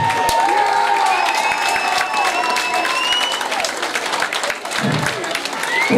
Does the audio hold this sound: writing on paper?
no